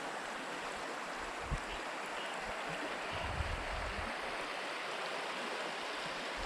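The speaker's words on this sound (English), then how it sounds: "We're on this beautiful river" A beautiful river flows steadily on a brightening June morning near Grand Lake, Maine, a continuous broadband wash of moving water with a few low thumps, fairly close and with no voices.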